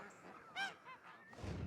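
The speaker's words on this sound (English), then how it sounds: "Geese were farmed." Farmed geese honking, a couple of short nasal calls close by and fairly faint, with light background noise and no talk.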